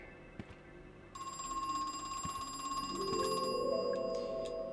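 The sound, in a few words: telephone ringing in the video game Crow Country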